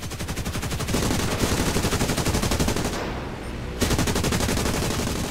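Machine guns of a Bristol Blenheim Mk IV rattle in rapid, sustained bursts during a strafing run in a video game, loud and close, with one brief dip before firing resumes.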